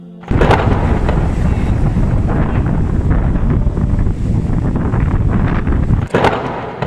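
A thunderstorm with strong wind batters a beach on an island shore, loud wind roar and rumbling thunder filling the whole stretch continuously, with a sharp crack of thunder near the end.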